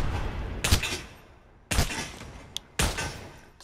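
Three sharp gunshots crack in Pavlov's World War 2 mode, each followed by a short decaying tail, spaced about a second apart, with a small click between the second and third.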